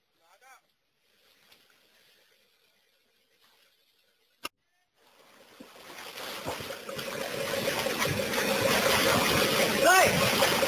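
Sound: rushing floodwater during rescue evacuation

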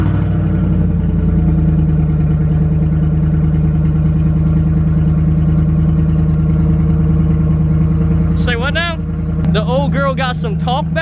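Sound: car engine with muffler and resonator removed

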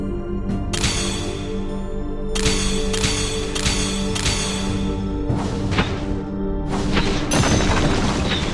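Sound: turret destroyed explosion in the video game Auto Chess MOBA

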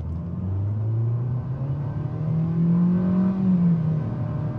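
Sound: 2021 Nissan Kicks accelerating 0-60 from a stop

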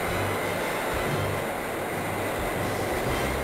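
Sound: train

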